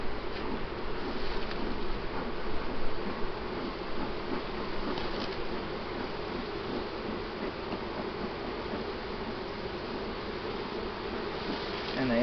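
Honey bees swarm inside an open hive after being smoked, making a thick, steady buzzing hum that stays close and even throughout, with faint rustling and no talk.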